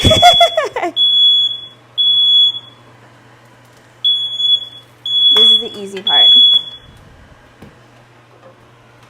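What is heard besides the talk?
fire alarm beeping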